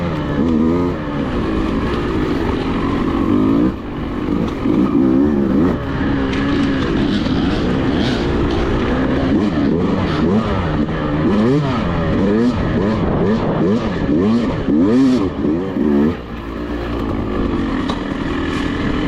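A Beta dirt bike, 200 RR Race or 390 RR-S, snarls continuously along a singletrack trail, the engine close and loud as it revs up and down through quick throttle blips and gear changes for the whole stretch.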